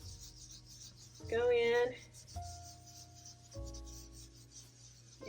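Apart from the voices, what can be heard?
scrubbing rust spots off a cast iron sink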